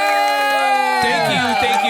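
A crowd cheers and whoops for a podcast guest, Scuba Mike, a loud, dense burst of voices lasting a couple of seconds, with some rising shouts near the end.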